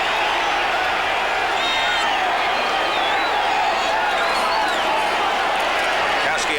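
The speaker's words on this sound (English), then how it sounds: "the crowd comes alive" Big football stadium crowd roaring and cheering at a 1986 NFL game between the San Francisco 49ers and the Los Angeles Rams, a dense, steady wash of many voices with scattered whistles and whoops, loud and continuous throughout.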